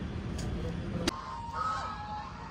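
Geese or ducks honk at a distance in an outdoor spot near a fishing area in Rohtak, Haryana, giving a few faint calls over low background noise and a single sharp click.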